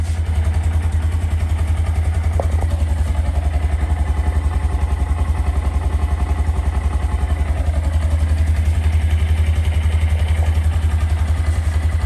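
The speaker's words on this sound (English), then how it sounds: "So, cold start. And that is high idle." A cold Honda Grom motorcycle idles high and steady with a stock exhaust, a continuous low rumbling engine drone with faint clatter, close and loud throughout with no talking.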